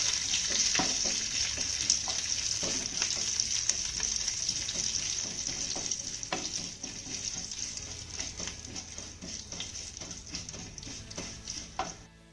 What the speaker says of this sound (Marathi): त्यानंतर ही फोडणी आपल्याला छान अशी परतवून घ्यायची आहे